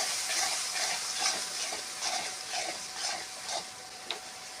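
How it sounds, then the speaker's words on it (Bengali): A spice paste of green chili, turmeric and salt sizzles steadily in a pan, a soft continuous hiss with light stirring scrapes, fairly faint and close, no talking. "কাঁচা লঙ্কা, হলুদ, পরিমাণ মতো নুন দিয়ে এটা ভালো করে কষিয়ে নিতে হবে।"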